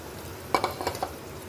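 Sago pearls go into a pan of crisp fried potatoes with the heat turned off, and a few quick scrapes and clinks of a spoon stir them over a low background hiss.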